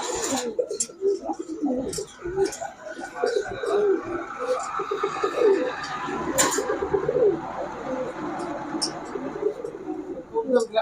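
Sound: Giribaz highflyer pigeons

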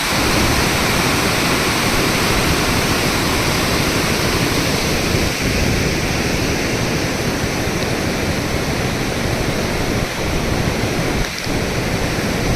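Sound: flooded Ghod river rushing water

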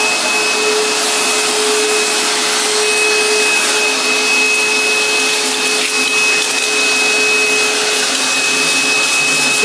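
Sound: vacuum cleaner hose sucking an African grey parrot's face

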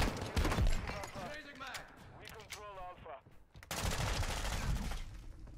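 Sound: shotgun fire in the video game Modern Warfare 2

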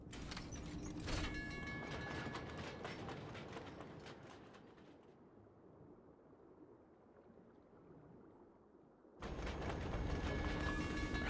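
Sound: subway train riding, from video game F.I.S.T

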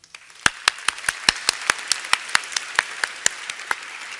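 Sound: audience applause for award-winning authors

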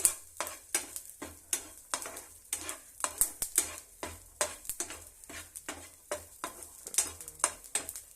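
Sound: garlic frying in a pan on low flame

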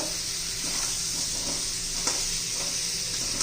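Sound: potato and stalk pieces sautéing in oil

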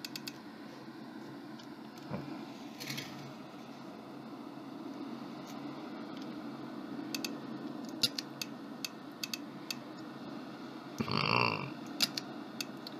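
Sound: burping

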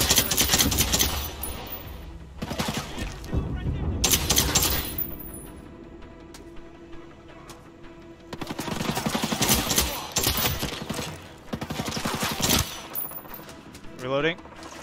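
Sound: gunfire in the video game Ghost Recon Breakpoint

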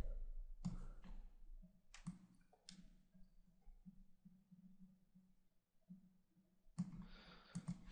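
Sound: computer mouse clicking while building an Excel chart

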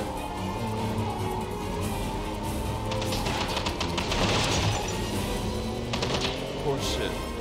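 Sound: machine gun fire in a video game

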